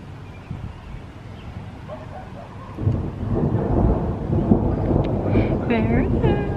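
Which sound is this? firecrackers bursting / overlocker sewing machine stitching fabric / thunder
thunder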